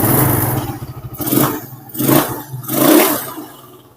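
A motorcycle engine with a recently seized piston is kick-started and revved, rising in three or four loud surges that swell and fade close by, with a clattery, uneven mid-range roar and no talk over it.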